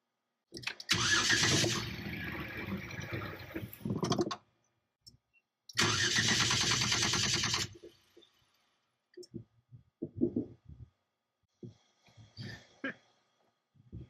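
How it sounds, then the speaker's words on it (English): A Jeep engine cranks for a few seconds, briefly catches, then cranks again and dies, followed by scattered close clicks and small knocks in the quiet. "I'm just going to see if it turns over on its own."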